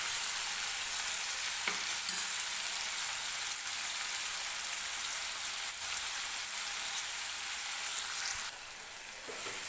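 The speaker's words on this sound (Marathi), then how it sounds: "टोमॅटो मऊ होईपर्यंत तेलामध्ये आपल्याला परतून घ्यायचं आहे." Tomatoes sauté in hot oil with a steady, even sizzle and crackle throughout, close and moderately loud, with no voices, easing slightly near the end.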